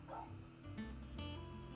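A dog in the video game Final Fantasy XVI lets out short barking yips over a sustained musical background, close and moderately loud.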